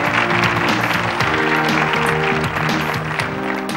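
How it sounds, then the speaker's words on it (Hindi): Loud, dense applause from a crowd mixed with ongoing music, a continuous wash of clapping that stays steady throughout. "भाई जोरदार तालियां बजा दीजिए"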